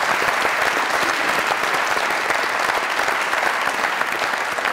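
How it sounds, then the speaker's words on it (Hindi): A studio audience at a comedy talk show breaks into dense, loud applause. The clapping is sustained and even for the whole stretch, with no voices standing out. "बहुत सी तालियां।"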